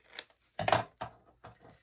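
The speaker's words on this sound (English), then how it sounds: "we're just going to bring our scissors in and snip out the corners" Scissors snip out the corners of a paper photo folio, a few quick close cuts in an uneven rhythm with short pauses between them, no voices.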